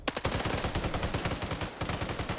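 Rapid automatic gunfire from a video game fires in dense, continuous bursts with only a brief gap, loud and close throughout, with no voices over it.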